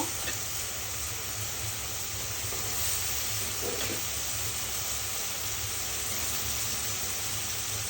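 Radishes hit a pan of fried spice paste, with prawns already cooking, for a Bengali radish curry. A steady, dense sizzle and hiss runs unbroken throughout, fairly close, with no talking.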